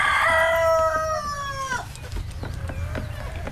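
Chickens on a farm, a long rooster crow rising over the flock and then fading into scattered short clucks and calls nearby.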